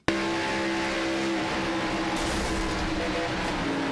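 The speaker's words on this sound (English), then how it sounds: "Puff of smoke out of that race car and a loud clatter. And that is a blown engine" A race car's engine blows up during a superspeedway race in a racing video game, giving a sustained loud engine drone with a steady hum and a brief sharper burst partway through.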